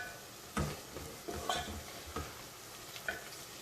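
Onions frying and being stirred in a pot for a beef stew, with soft sizzling under several distinct scraping strokes of a spoon against the pot, moderately close and fairly quiet.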